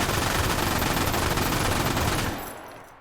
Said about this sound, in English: don't hip fire an LMG